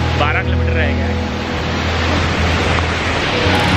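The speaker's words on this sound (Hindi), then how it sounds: "ये मेरे पीछे है रुद्र फॉल्स" Rudra Falls on the Kedarnath trek roars as a dense, steady wash of broadband water noise, loud and unbroken, with a faint voice briefly near the start.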